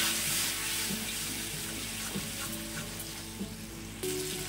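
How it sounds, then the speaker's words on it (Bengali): Water splashes into spice paste frying in oil for a Bengali gravy, giving a steady loud sizzle and hiss with faint stirring scrapes, and a fresh burst of sizzling near the end. "মশলাটাকে ভালো করে গ্রেভি করার জন্য একটুখানি জল দেবো।"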